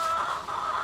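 A brief low clucking murmur from chickens inside a coop, soft and steady, with no other voices.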